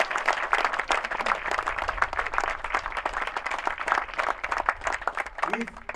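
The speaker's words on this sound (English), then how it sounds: "give yourselves a round of applause for a job well done" A graduating audience at a high school career pathways celebration applauds steadily, dense clapping filling the room for several seconds with a murmur of crowd voices beneath.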